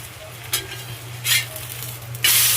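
Egg, milk and wheat batter frying in a pan, a soft steady sizzle broken by three short bursts of stirring or scraping, close and fairly quiet with no talk.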